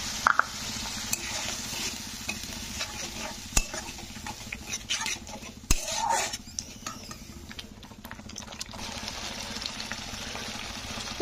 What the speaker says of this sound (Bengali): তো দিয়ে এটা একটু সামান্য নাড়াচাড়া করে তারপরে এতে আমি দিয়ে দেবো সামান্য পরিমাণ জল